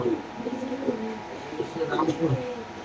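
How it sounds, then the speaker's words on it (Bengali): A pair of caged pigeons at a pigeon market, giving soft, low, rolling coos that repeat close by over a background of people talking. "এখানে আছে এক জোড়া কবুতর"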